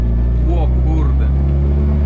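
The small engine of a 1988 FSM 126p 650E car revs up steadily to about 4,500 rpm, its low droning tone rising, with a voice speaking over it.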